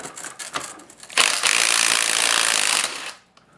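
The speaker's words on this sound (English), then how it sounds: "32mm socket takes off the big nut on top." A 32mm socket on a ratchet spins a big nut off a transmission shaft during a D16 gearbox teardown: a few short clicks, then a steady close grinding ratchet run that stops abruptly.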